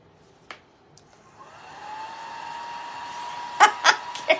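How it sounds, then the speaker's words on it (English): A hair dryer blows over a wet craft snowman made from a Dollar Tree coco liner, its steady whirring hum rising after a soft click, with a few sharp knocks near the end. "I am going to run that dryer over it one more time"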